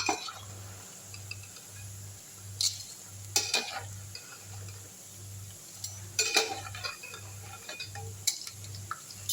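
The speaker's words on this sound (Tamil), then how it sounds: "வடை நல்லா வந்து முறுமுறுன்னு வெந்துச்சு எடுத்துடலாம்" Vadas deep-fry in a pan of hot oil, a steady low bubbling sizzle running throughout with occasional metallic scrapes and clinks of a utensil stirring or lifting them, close and moderately quiet.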